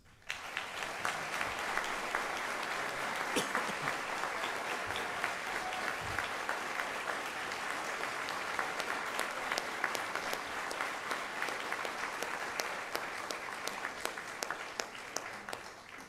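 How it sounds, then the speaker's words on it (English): A large audience at a CBP officer training graduation claps for the graduates in long, steady, even applause that holds at full strength for over a quarter minute. "Please give a round of applause to the graduates."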